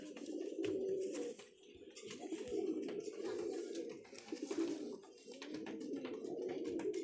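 A pair of white-backed high-flying pigeons coo repeatedly in soft, throaty, rolling phrases, close and fairly clear, with brief pauses between calls as the pair is released.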